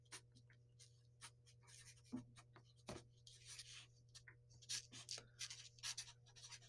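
A pen writes on paper, giving dry scratchy strokes and taps in short uneven bursts over a steady low hum, close and quiet.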